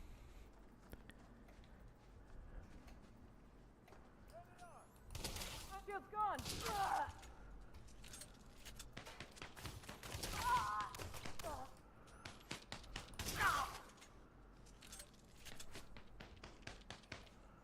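Ship weapons firing in the space game Elite Dangerous, coming in several loud bursts of rapid shots and impacts with quieter stretches between them, over a steady low hum.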